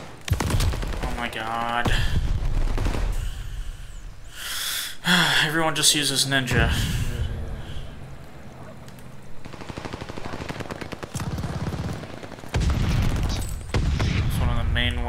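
Gunshots and machine-gun bursts in Call of Duty: Vanguard multiplayer, loud clusters of rapid automatic fire and single cracks at close range, broken by quieter stretches, with a player talking and gasping over the shooting.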